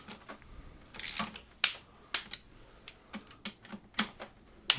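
Gearbox bolts on a MINI R50 / Rover R65 gearbox are torqued down with a click-type wrench, a series of sharp, separate clicks and ratchet snaps, close and uneven in rhythm with no talking.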